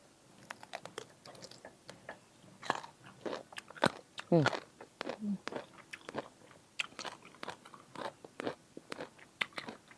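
Someone bites into and chews a small, crisp mango, producing loud close crunches and wet chewing in irregular bursts while a person talks.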